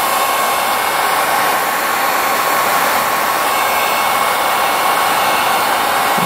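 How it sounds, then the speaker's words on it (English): A heat gun runs steadily as a continuous broadband blowing whoosh, near and loud without a break, while it is aimed at dry-rotted parts on a 500cc supermoto that has sat for 15 years. "Get the heat gun out."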